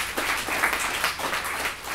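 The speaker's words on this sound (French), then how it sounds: "vous pouvez l'applaudir une autre fois" Audience applauding a speaker again at a formal gathering, a dense, moderately loud patter of many hands clapping that tapers off slightly toward the end.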